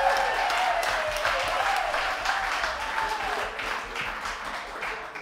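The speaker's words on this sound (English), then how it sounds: "Please, a round of applause." Sustained applause from an audience, a dense wash of clapping that fades slightly toward the end.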